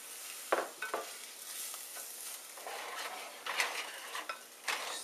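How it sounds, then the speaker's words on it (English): Arborio rice stirred in a pot with cooking oil and onions for risotto, giving a steady soft sizzle with scraping spoon strokes and a few sharper knocks against the pot, close and alone. "Just stir until completely coated with the cooking oils and the onions."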